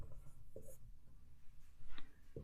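Pen writing out a definition on paper in a quiet room, a few brief scratchy strokes spaced apart, close and faint.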